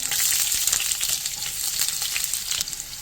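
Curry leaves and onion hit hot mustard oil in a pan, giving a loud, close, hissing sizzle that crackles steadily for a few seconds with faint stirring.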